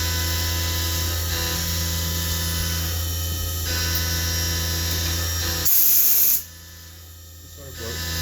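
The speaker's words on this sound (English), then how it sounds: "Sorry for the noise, but machining is noisy." A Haas CNC machine runs steadily while machining, a loud continuous hum and whine with layered tones and hissing coolant, then a brief louder burst of spray before the noise drops sharply.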